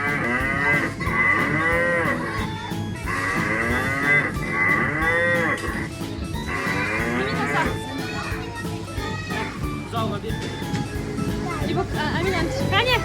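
A cow being fed moos loudly and repeatedly up close, long drawn-out calls, while children and adults chatter and play around it.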